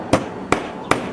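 Three evenly spaced hammer blows drive a nail through a wooden board, each crisp impact close and distinct against a quiet room.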